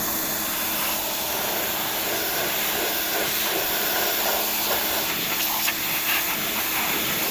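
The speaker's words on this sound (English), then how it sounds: "This little pressure washer I have." A small pressure washer spraying down an old Power Wheels jeep, a steady broadband hiss and rushing spray held close and loud throughout, with faint spatter changes and no talk.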